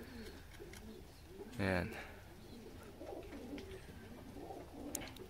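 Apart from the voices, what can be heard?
pigeons cooing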